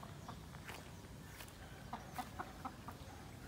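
Backyard chickens clucking at bath time, a few short clucks in a quick cluster near the middle, faint and close with no talking.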